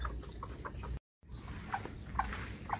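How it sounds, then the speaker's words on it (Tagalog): A mother hen gives soft, repeated clucking calls to her chicks, faint and somewhat distant over low background noise, broken by a short dropout. "Hanggang ngayon guys, nagtatawag pa rin siya sa kanyang mga anak."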